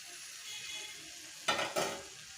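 Potatoes and jackfruit sautéing with spices in hot oil give a steady sizzle, broken near the end by two louder scraping bursts as the pan is stirred.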